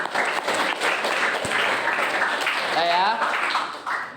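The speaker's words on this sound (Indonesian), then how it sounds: "Oke, tepuk tangan untuk kita semua." Students in a classroom clap together in a lively, fairly close burst that holds steady with some voices mixed in before trailing off at the end.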